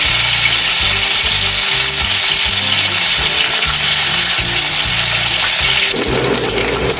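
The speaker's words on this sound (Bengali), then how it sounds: "তেলটা গরম হয়ে গেছে, এবার আমি একটা একটা করে মাছ ছাড়বো" Fish frying in hot oil for a fish curry gives a steady, loud, close sizzle that continues through the whole stretch, with a low rhythmic rumble underneath.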